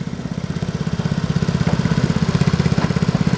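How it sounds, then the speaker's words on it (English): High speed antique tractor engine running steadily nearby, a loud rhythmic chugging beat that quickens slightly, with no voices. "Here comes the high speed tractor."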